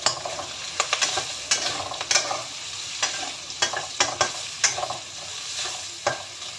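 Noodles with thinly sliced black fungus are stir-fried in a pan, a steady sizzle punctuated by regular sharp clacks and scrapes of the spatula, close and without speech.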